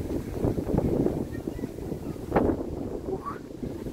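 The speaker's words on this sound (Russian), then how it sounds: "Слышно вам, как ветрюган просто, просто воет и дует?" Strong wind howls and blows at Wawel Castle in Kraków, buffeting the microphone in uneven low gusts throughout, with faint background sounds in between.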